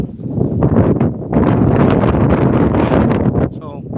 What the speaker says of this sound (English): It's really windy right now.